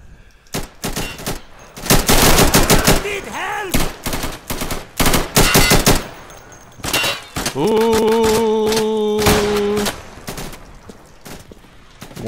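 Rapid gunfire bursts in the tactical shooter Insurgency, loud and close, with repeated automatic volleys and scattered single shots throughout, no talk over it.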